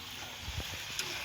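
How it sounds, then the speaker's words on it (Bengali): Soft, steady sizzle of a triangle paratha frying in oil in a wok, a brief close-up crackle with a couple of faint bumps. "তারপরে এবার তেলে ভাজবে"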